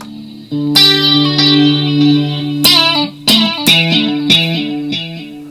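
Electric guitar run through the delay section of a Tank G multi-effects pedal, with sustained chords and plucked notes each trailing repeating echoes, loud and close with no talking.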